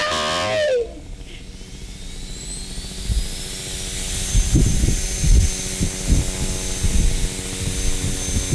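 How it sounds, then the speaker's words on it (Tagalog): A Bell 206 B3 helicopter flies overhead, a steady rotor drone with faint high turbine whine and rhythmic low thumps that swell and fade, heard alone without voices after a brief rustle at the start. "Helicopter Bell 26 B3!"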